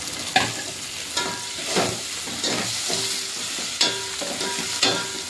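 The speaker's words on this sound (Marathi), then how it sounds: "खमंग चांगलं परतून घ्यायचं. टोमॅटो थोडंसं गळून द्यायचं." Onion and tomato with a little coriander sauté in a pan for sambar, giving a steady sizzle broken by stirring scrapes and sharp utensil knocks against the pan about once a second, close and without talk.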